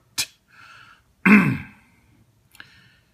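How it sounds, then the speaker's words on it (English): A single person clears their throat with a rough, gravelly rasp, preceded by a short breath and followed by a brief small sound. "Let me clear my throat."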